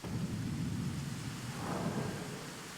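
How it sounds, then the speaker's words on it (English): In the Caelid region of the video game Elden Ring, rain falls in a steady, faint wash while low thunder rumbles beneath it, heard alone without talk. "it's raining here in Caled"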